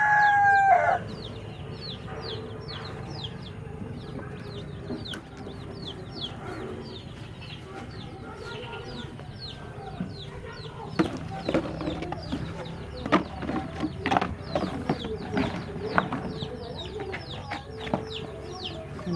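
Chickens cluck and a rooster crows while being fed semi-organic feed, with many overlapping calls at close to mid distance, and people talk and handle things nearby.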